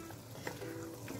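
Tuna with tomato being stirred in a frying pan, a steady soft sizzle under the scrape of the spoon, close and fairly quiet, with no one talking.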